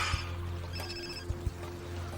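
A telephone rings indoors, thin electronic trilling tones heard once in the middle of the moment over a low steady hum, with a few soft knocks around it.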